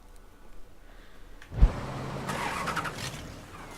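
A sports car engine in the video game Mafia III fires up with a sharp start, then holds a low, steady rumble that swells slightly as it revs, fairly quiet overall.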